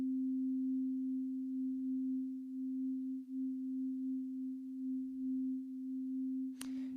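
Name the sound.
mono synth with basic reverb slowly brought in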